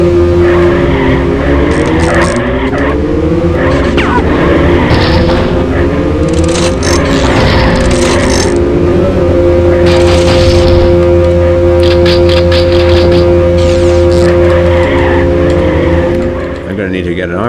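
Race cars in the Mini Car Racing video game screech with continuous loud tire squeal and skidding over whining engine tones that rise and fall, while a voice talks over the gameplay throughout.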